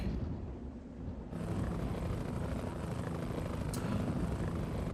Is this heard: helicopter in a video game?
yes